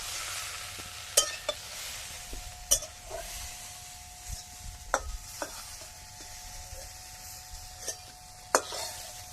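Mustard oil sizzles quietly in a kadai as nigella seeds and a pinch of asafoetida go in for tempering. Sharp pops, clicks and stirring scrapes break out irregularly over a low, steady hiss, with no voices.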